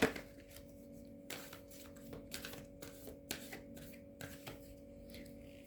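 A deck of tarot cards being shuffled before a draw: a soft, continuous riffling and flicking of cards, with quick irregular slaps and clicks spread across the whole stretch, fairly faint and close.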